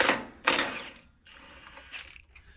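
An impact gun fitted with an 18mm socket removing rear bumper bolts on a 2020 Land Rover Defender: two short, loud mechanical bursts close by, followed by a quieter rattling whir that trails off.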